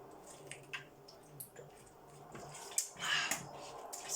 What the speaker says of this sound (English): having a slurp of water